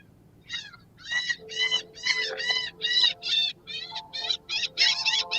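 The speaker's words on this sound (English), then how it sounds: "A harp and a seagull. Yeah, we're hearing the seagulls." Seagull sound effect played back, a run of repeated squawking gull calls in quick bursts, fairly clear over a low background hum, with no talking.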